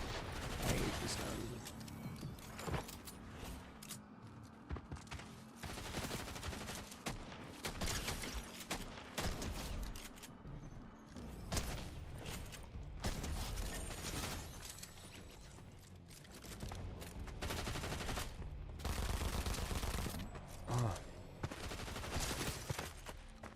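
Repeated volleys of video game gunfire, including fast automatic bursts and heavier booms, pound on and off through a long, busy stretch, with occasional speech mixed in.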